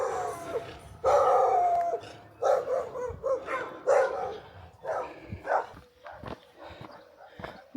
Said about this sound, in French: les chiens me font peur